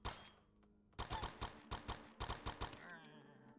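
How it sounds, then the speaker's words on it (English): Gunshots in a video game, a rapid burst of sharp, evenly spaced cracks heard faintly at low volume, a few shots first, then a pause and a quick run of about a dozen more. "the gunshots were so loud in the game"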